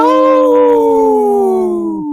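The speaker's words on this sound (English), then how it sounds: "Howling for Wolves, protecting wolves for future generations. Howl!" A single long wolf-like howl, loud and close, holding a steady tone that slowly slides downward before cutting off, heard alone.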